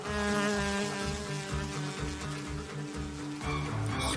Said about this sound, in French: Regardez, un moustique!